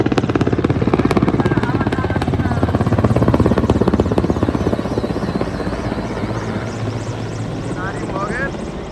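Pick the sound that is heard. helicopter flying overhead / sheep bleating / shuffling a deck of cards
helicopter flying overhead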